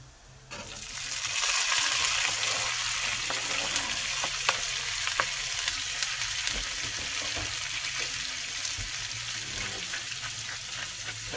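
Shrimp and tomatoes frying in a pan, a loud steady sizzle that starts abruptly and holds for the whole stretch, with occasional small stirring clicks and no talking.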